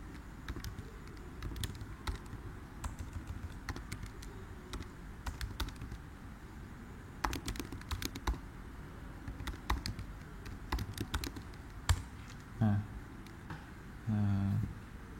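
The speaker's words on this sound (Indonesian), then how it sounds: "itu cara mengetik di Microsoft Excel" Typing on a computer keyboard while entering data in a Microsoft Excel spreadsheet, with a run of quick, close clicking keystrokes in uneven bursts and a few heavier key presses over a quiet room.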